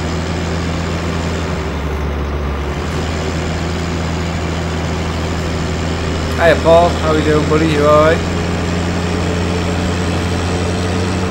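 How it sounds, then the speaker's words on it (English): Steady low idling drone of a tractor engine in Farming Simulator 17, loud and constant throughout, with someone speaking briefly over it near the middle. "I know this tractor's a bit loud"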